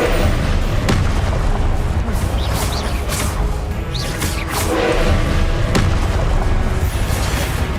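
Confringo spell explosions in the video game Hogwarts Legacy: several loud booming blasts with whooshing spell sounds over a dense, continuous background of combat noise.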